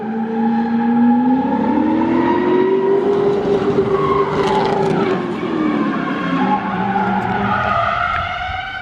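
A Trans Am drifts sideways with its tires skidding and squealing in a long, loud, wavering howl over the roaring, revving engine, heard close from inside the car.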